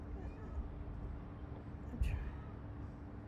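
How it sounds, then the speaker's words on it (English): A cat meows once, fairly faint and somewhat distant, over a steady background hum with no talk. "That cat is just, I don't know if you guys can hear it. It's like, meow, meow, meow, meow."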